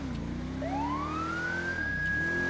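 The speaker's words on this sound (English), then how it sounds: "I'm gonna kill my sirens right when I get around the corner there." Police car siren in the video game GTA 5, a clear rising electronic wail sweeping upward over a low vehicle rumble, heard alone with no talk.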